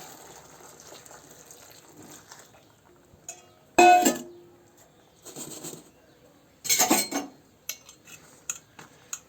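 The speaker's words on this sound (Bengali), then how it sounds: "বাটিতে আমি কুলগুলো ঢেলে দিয়ে এগুলো জল দিয়ে দেবো।" Jujubes are tipped into a bowl and hot water is poured over them, heard as brief clattering and splashing bursts with a louder gush midway, separated by quiet gaps, close by and without talk.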